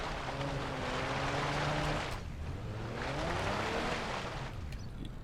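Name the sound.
Hopper engine revving while climbing, from the video game BeamNG.drive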